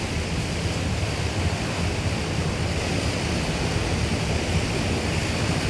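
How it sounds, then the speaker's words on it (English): Steady, loud broadband rush of water as a De Havilland CL-415 water bomber in Microsoft Flight Simulator 2024 skims and scoops water, a constant wash of spray and engine noise with no talk. "It's filling up with water."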